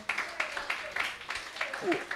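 A church audience at a kids' Christmas party clapping for its volunteers: a modest, fairly quiet round of rhythmic hand claps that keeps up steadily throughout, with no talking.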